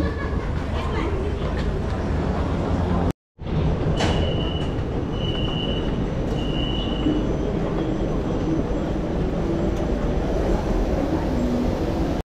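Riding inside a Kuala Lumpur rail transit train: a continuous loud rumble of wheels on track with brief squealing tones, a momentary dropout early on, and talk over the noise.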